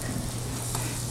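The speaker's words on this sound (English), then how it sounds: "we're just sautéing our onions and garlic" Onions and garlic sauté in a hot pan with a steady, close sizzle and crackle throughout.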